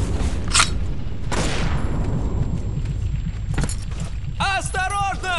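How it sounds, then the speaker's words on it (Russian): A video game battle with sharp gunshots and booming grenade blasts, several separate bangs spread through the clip, followed by a voice talking close over the end. "Осторожно! Граната!"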